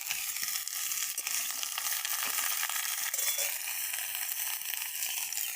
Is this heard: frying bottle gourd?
yes